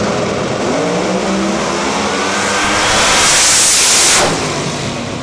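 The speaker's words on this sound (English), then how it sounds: "the Queen of Pro Mod, Melanie Salemi, about to throw down here in Q1" Pro Mod drag race cars, including a screw-blown Camaro, making a qualifying pass, a loud roaring engine blast swelling to a peak and then fading as they race past.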